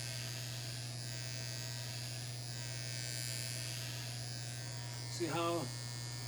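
Electric hair clippers dry-cutting an Afro haircut buzz steadily and close throughout, a constant motor hum, with a brief voice speaking near the end.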